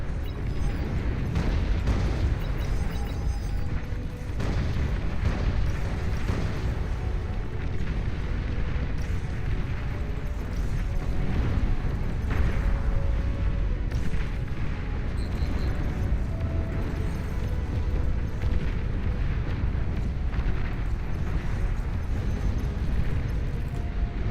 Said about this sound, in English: That would be their space force bombarding us from hell.